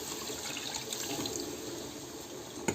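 Water is poured into a pan of cooking masala for a spicy greens dish, giving a continuous close splashing, hissing pour for the whole stretch with one small clink near the end.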